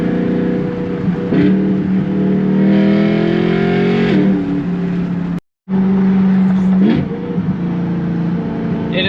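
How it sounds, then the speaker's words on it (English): BMW E92 M3 V8 engine revving hard through quick downshifts, with rising and falling harmonic engine tones, throttle blips and a brief dropout midway, loud and close throughout. "Those downshifts are just too good."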